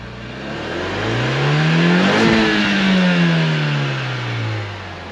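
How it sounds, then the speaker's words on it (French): A Renault Mégane 3 GT engine revs up and eases back down, one smooth rise and fall heard close by, with a muffled, subdued exhaust and mostly engine note. "j'ai jamais entendu le bruit d'une Mégane 3 RS d'origine"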